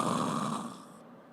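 A voice imitates a brother snoring, one drawn-out rasping snore that is loud and close, then fades over about a second.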